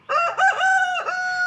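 A Rhode Island Red rooster crows loudly and close by in a single long call lasting about a second and a half, with no talking over it.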